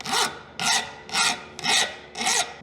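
Five even, rasping strokes of a hand file cleaning up a metal edge during restoration work on a 1967 Mooney aircraft, loud and close, with brief pauses between strokes and no talking.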